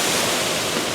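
Waterfalls splash and rush steadily along the themed queue of SeaWorld's Manta roller coaster, a dense, even roar of falling water with no pauses and no voices.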